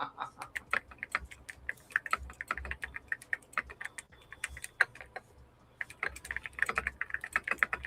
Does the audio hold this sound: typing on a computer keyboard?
yes